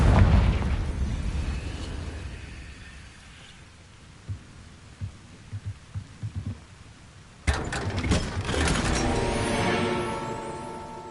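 Explosion from the Confringo fire spell in the Hogwarts Legacy video game, opening with a deep rumbling blast that fades, a series of soft thumps in the lull, then a second sharp, loud burst with a ringing, crackling tail.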